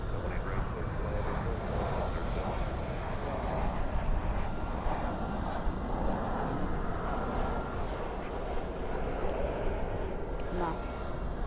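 A British Airways airplane departing Dallas/Fort Worth airport at night, a loud continuous jet engine roar that swells slightly midway, heard at a distance with a voice talking over it.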